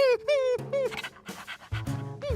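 Cartoon dog panting and yelping in quick, breathy bursts mixed with short whiny vocal cries, close and clear, with no talk.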